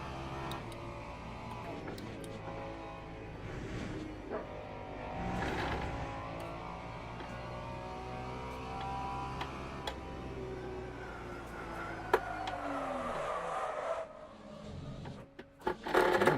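Ferrari hypercar engine in Gran Turismo 7 racing through a forest stage, a steady loud game engine drone with shifting pitch throughout, occasional clicks and a brief swell near the end.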